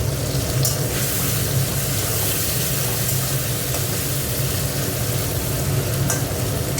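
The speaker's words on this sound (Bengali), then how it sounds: "পেঁয়াজটা একটু ভাজা ভাজা হোক।" Onions fry in a hot pan with a loud, continuous sizzle that stays even and close throughout, with no voices over it.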